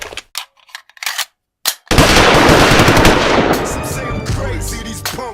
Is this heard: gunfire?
yes